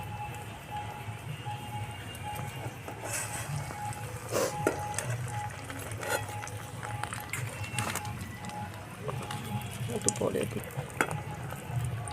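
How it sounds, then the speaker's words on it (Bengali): Vegetable chops fry in hot oil, a steady crackling sizzle with occasional spoon or utensil clinks against the pan, moderately close and continuous throughout. "এবার তেলে দিয়ে দেবো"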